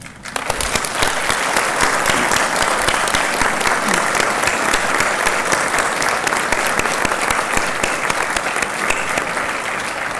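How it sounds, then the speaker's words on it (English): Graduating class at a WVU Parkersburg fall commencement gives loud, sustained applause to family and friends, dense clapping filling the hall steadily for about ten seconds with crowd noise beneath. "join me in saluting your family and friends with the most rousing applause you've ever given in your whole life"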